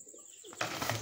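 A pigeon coos close by, a short soft burst of low throaty calls after a quiet moment.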